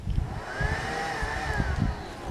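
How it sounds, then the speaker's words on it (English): A battery-powered toy insect vacuum runs alone with a steady, close whirring hum and a thin motor whine that wavers slightly in pitch throughout. "Kind of sounds like a real vacuum."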